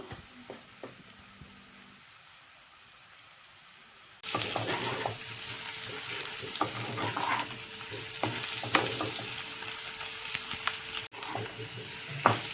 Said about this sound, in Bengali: এবার আমি ভাতগুলো দিয়ে দিচ্ছি ভাত দেওয়ার পর ভালো করে একটু ঝাঁকিয়ে নেব নেড়ে চেড়ে নেব